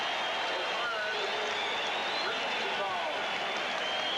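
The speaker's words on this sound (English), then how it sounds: "And listen to the Sonic crowd." A Seattle SuperSonics home crowd roars steadily through a 1980 playoff basketball game against the Portland Trail Blazers, a dense, continuous wash of cheering with a broadcast commentator's voice faintly mixed in.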